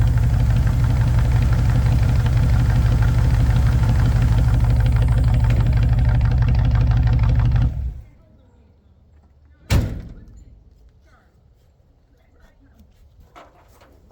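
Hot rod engines idle loudly together, a dense rumbling drone that cuts off abruptly partway through, followed by near silence, a single sharp thud like a door shutting, and faint low background sounds.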